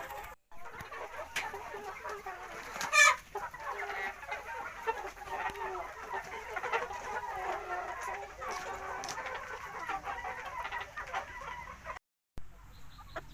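Betong chickens cluck softly and continuously for a long stretch, with one sharper, louder squawk early on, set against a quiet background.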